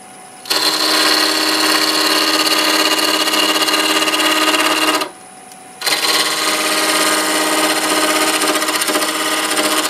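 A wood lathe spins up for turning a fancy wooden yo-yo: a loud, steady motor whine with a broad hum runs for about five seconds, cuts out briefly, then restarts and holds steady to the end.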